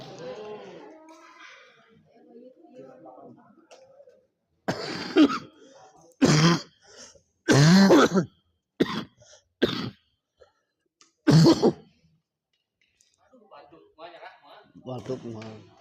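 Several sharp coughs and throat clearings burst out close by in a run of short loud bursts during a badminton tournament match, with faint murmuring talk before and after.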